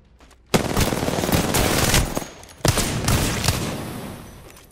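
Rapid bursts of automatic gunfire in Apex Legends during a 1v1 fight, two loud sustained volleys, each fading into a brief rumble.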